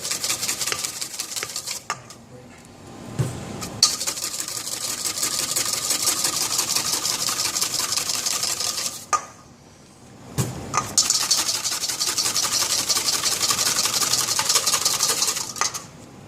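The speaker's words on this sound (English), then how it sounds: "Right now, they'll keep on whisking with no oil." Egg being whisked for mayonnaise in a cooking class, before any oil is added: a loud, steady whirring churn runs almost continuously, broken by two short pauses.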